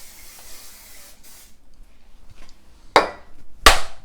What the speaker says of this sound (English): I got a little pan spray, just going to spray my pan.